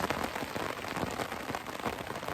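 Rain falling on a poncho shelter during a rainstorm, a dense, steady patter of drops on fabric close by, without voices.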